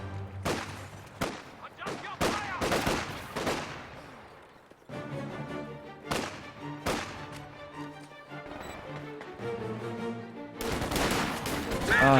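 Repeated rifle volleys crack through a video game battle as riflemen fire from two directions. Sharp shots come in irregular bursts and clusters, loud and close, with short gaps between volleys and heavy firing near the end.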